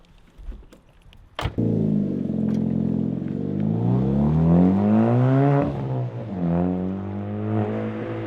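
A Ford Fiesta MK6 ST with a modified gear shifter and a worn clutch starts up and pulls away close by, its engine rising through revs in a steady climb after a brief clunk, with a gear change partway through.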